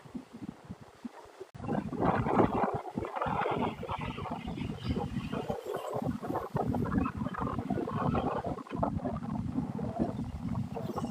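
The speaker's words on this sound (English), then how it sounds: "the wind is bad, so it's hard for me to like talk" Strong wind blasts across a microphone on a Florida beach at sunset, heavy rumbling gusts that drop out briefly and then roar back loud and constant.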